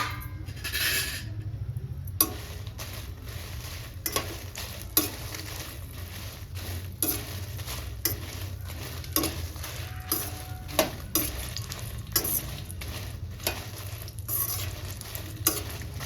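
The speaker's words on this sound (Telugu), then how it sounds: "ఒక అరవై డెబ్బై గ్రాముల ఒత్తిమిరపకాయలు తీసుకోవాలండి సిమ్లో పెట్టుకొని మంచిగా ఫ్రై చేసుకోవాలి" Dried red chillies frying in oil on a low flame for gongura pickle, a steady soft sizzle with repeated stirring scrapes and light clinks of the spatula against the pan throughout.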